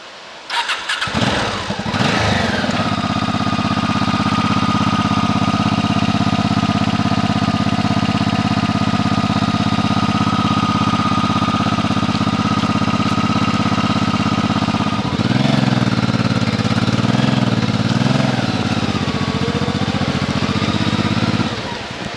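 Motorcycle engine being started and warmed up on a rainy night, a sputtering crank that catches into a loud, steady close-up idle with a brief rev partway through, running continuously to the end.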